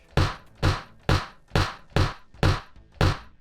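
Seven hollow, punchy taps in a steady rhythm, each with a short ringing decay, close and clear with no voices.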